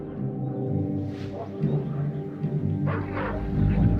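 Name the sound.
dogs barking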